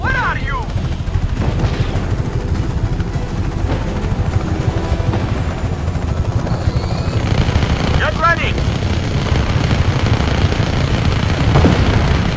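Helicopter rotor drone with bursts of gunfire in a Just Cause 3 battle, loud and continuous throughout, with voices in the game talking over it.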